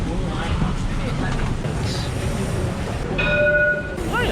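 A tram in Melbourne rumbles along with rail noise and a brief high tonal squeal or horn near the end; voices may be faintly present.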